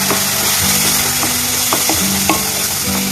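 Ginger-garlic paste with Kashmiri chilli powder and turmeric fries in a pan for mixed dal, a loud, close sizzle with repeated scraping strokes of a spatula being stirred through it.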